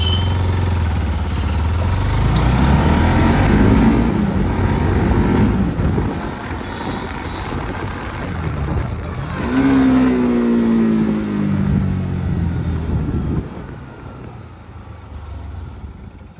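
A Bajaj NS200 motorcycle fitted with a slipper clutch revs hard, rising and falling through several throttle blips, then settles toward a quieter idle near the end; loud and close, with no talking.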